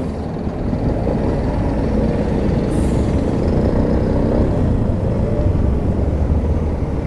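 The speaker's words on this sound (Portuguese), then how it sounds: "Bastante movimento de caminhões, carretas." Heavy trucks and semi-trailers roll past on a busy road at the entrance to Chapecó, a steady, loud low rumble of engines and tyres with no pauses.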